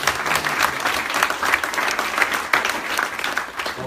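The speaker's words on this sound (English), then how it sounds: "He deserves a round of applause for leading this whole." Steady applause from an audience in a high school gathering, a dense continuous patter of many hands clapping at even volume with no talk over it.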